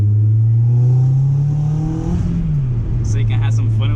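A stage 1 B6 Audi A4 1.8T with an ECS exhaust and catless test pipe revs up close and loud, its pitch rising and then dropping back to a steady drone, while someone talks over it.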